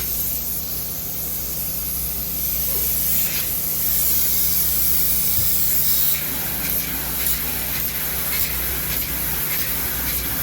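Hot spray foam insulation hisses from a hose onto a floor in a steady, loud, unbroken spray that holds level for the whole stretch.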